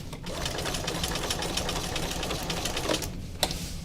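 Sewing machine stitching a zigzag with the feed dogs engaged, a steady fast mechanical whir and rapid needle clatter running continuously at close range.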